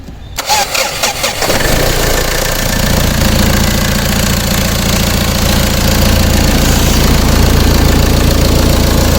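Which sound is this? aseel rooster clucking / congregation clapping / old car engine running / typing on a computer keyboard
old car engine running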